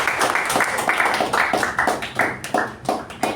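A small audience at a Toastmasters meeting applauds a best newcomer award, with close, uneven clapping at a steady pace for a few seconds and no voices.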